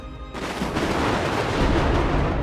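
Dense, loud gunfire from the Girls Frontline video game, a sustained burst of rapid shots running unbroken through the whole stretch with no pause.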